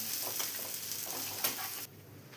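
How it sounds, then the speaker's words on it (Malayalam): Paneer shallow fries in oil in a pan, giving a steady soft sizzle with faint stirring scrapes that cuts off abruptly near the end. "ഇത് നമ്മൾ ഷാലോ ഫ്രൈ ചെയ്തെടുത്താൽ മതിയാവും"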